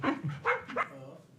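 A dog gives a few short barks and yips close by, three quick bursts in a row, with no speech over them.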